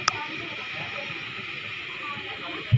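Hot cooking oil hissing in a pan while frying a flat-bean vegetable dish, a steady close sizzle running throughout, with a brief clatter at the start and a soft knock at the end.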